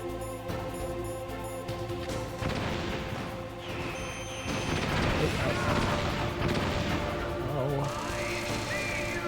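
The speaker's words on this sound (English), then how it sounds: "Okay, yeah, stun grenades don't work." Stun grenades detonate in the Metal Gear Solid video game, giving dense booming blasts and crashing bursts layered over busy game music and effects, with a player talking over the action.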